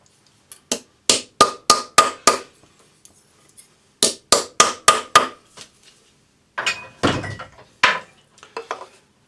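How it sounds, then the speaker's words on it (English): Sharp metallic strikes of a cross peen jeweler's hammer on silver in two quick runs of five or six blows, followed by a few irregular, heavier taps, close and loud. "we'll flatten it with a rawhide hammer and use our cross peen to put our marks in it"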